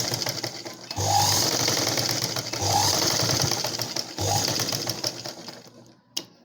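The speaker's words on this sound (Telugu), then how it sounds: "మనకి మెడ భాగం దగ్గర వెనక్కి ముందుకి స్టిచ్చింగ్ చేసుకోవాలి." A sewing machine stitches the neckline of a blouse in three loud, steady bursts of rapid mechanical chatter, each lasting over a second, with brief pauses between runs and a small knock at the end.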